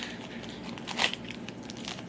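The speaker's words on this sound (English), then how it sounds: "I think you just have to rip it, Nathaniel." Soft crinkling and tearing as a cardboard pin box is ripped open, with one sharper rip in the middle, fairly close and quiet.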